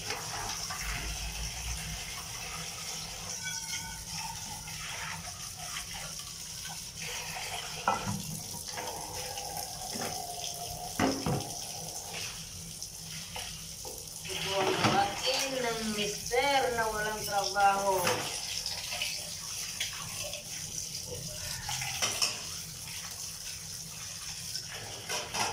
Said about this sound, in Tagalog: Kaya ngayon tayo maghugas.